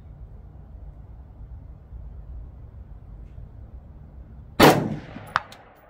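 An AR-15 rifle fires a single loud sharp shot at a steel target 200 yards away, after a quiet stretch of faint outdoor background noise; a fainter metallic ping follows shortly after.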